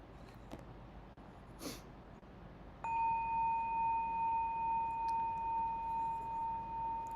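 A temple bell is struck once and rings on with a clear, sustained pure tone that hums with a slow, gentle pulsing, standing above a quiet room hiss with a few soft clicks beforehand.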